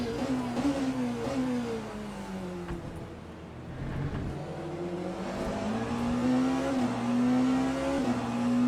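A hypercar's engine drones through a racing video game in a continuous rising and falling whine as it accelerates, eases off and builds speed again, steady and fairly loud with no voices.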